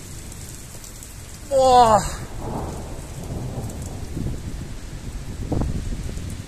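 A heavy thunderstorm over Ingolstadt: steady rain hisses throughout, with a single loud burst near the start and fainter rumbles later, and a man's brief exclamation.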